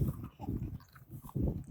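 A few crunchy bites into dry wheat toast from a Ukrainian military ration, close up, with chewing noises in short bursts and no talking.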